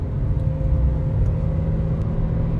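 An MG Astor 1.5 CVT accelerates while overtaking, giving a steady, droning engine hum with low rumble heard from inside the cabin, continuous and even with no voices.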